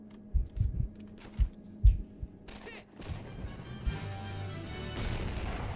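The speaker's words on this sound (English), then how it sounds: "That was a really delayed explosion." In the video game Medal of Honor Heroes 2, several quick, punchy thuds of gunfire and impacts are followed by a delayed, louder explosion that swells into a lingering rumbling roar.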